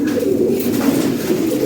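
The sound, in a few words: fancy pigeons cooing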